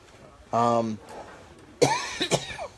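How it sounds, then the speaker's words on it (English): A short harsh cough from a lingering cold bursts out, then a moment of quiet, followed by a rougher second cough or throat-clearing sound up close. "I still have this lingering cough"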